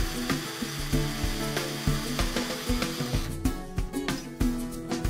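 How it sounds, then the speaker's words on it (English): A small bit drills a starter hole through the center of a half-inch PVC end cap, giving a steady, close power-tool whine with scraping, grinding bursts as the plastic is cut, with no talking over it. "Take a half-inch PVC end cap and drill a small starter hole through its center."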